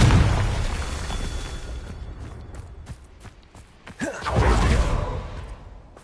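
A Confringo blasting spell from Hogwarts Legacy goes off with a whooshing rush and a deep, loud boom that swells and then fades, following a long rumbling roar of game noise.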